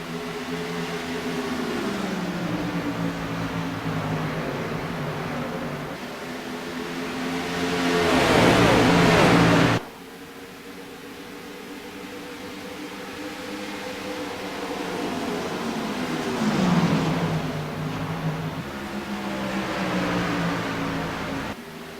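A pack of race cars at Darlington Raceway roaring up through the gears on a green flag restart, engine pitch climbing and sweeping past, a second wave of accelerating cars following, no talk.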